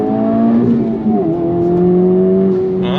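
Honda Civic Type R FL5 engine pulls hard under full throttle, a loud steady rising drone that climbs in pitch through the gears with a brief dip around a shift, heard close from inside the car.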